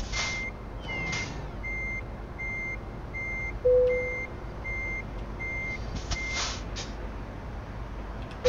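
A Scania S BEV High Roof electric truck sounds its reversing beeper while parking, a steady series of evenly spaced beeps over a low background hum, with a brief hiss partway through.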